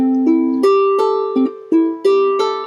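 Ukulele strings plucked one at a time, each note ringing briefly before the next, climbing from the lowest string to the highest, with no voices.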